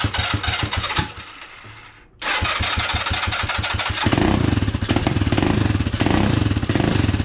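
A small scooter engine cranks, sputters briefly, then catches and runs with a loud, steady putt-putt idle close to the microphone.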